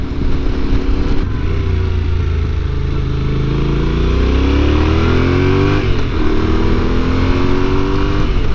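A Yamaha Tenere 700 motorcycle engine under a rider, loud and close, its rumble climbing in pitch through acceleration with a brief dip at a gear change, all over heavy wind rush.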